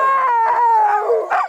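Sled dogs howl at the Iditarod ceremonial start, a loud, close, sustained howl that slowly falls in pitch, with a sharper yelp near the end.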